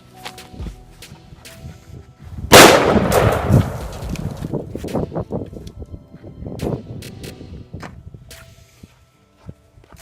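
A homemade explosive shotgun arrow, thrown like a dart, detonates with a single sharp outdoor blast that rolls off into a rumbling decay, followed by scattered footsteps and rustling.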